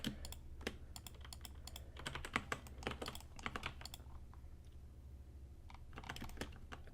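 Rapid computer keyboard typing while working in Blender, with irregular bursts of close, crisp key clicks and a steady low hum underneath.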